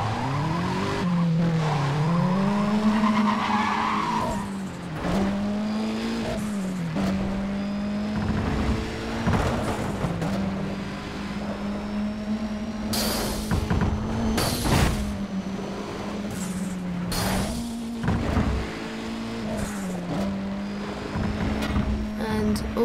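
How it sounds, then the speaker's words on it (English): A Mazda 3 in the Need for Speed racing game, its engine droning steadily and revving up and down while tires squeal and skid in repeated bursts, loud and continuous with no talk. "The next car is Mazda 3."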